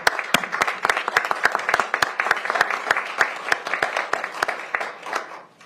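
A council meeting audience claps for Vietnam veterans, a loud, fairly close round of applause with sharp individual hand claps standing out over the mass, fading toward the end.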